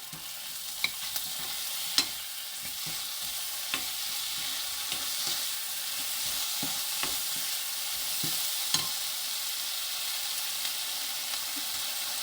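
Ham stir-frying in a pan with oyster sauce, giving a dense steady sizzle with occasional spatula clicks and scrapes, close up and continuous, with no voices.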